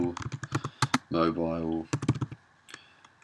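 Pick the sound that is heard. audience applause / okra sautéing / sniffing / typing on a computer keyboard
typing on a computer keyboard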